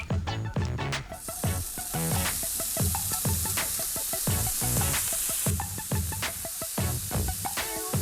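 Beyti kebab meat sizzles and fries in a hot Tefal pan with a loud continuous hiss and crackling pops, close up and alone.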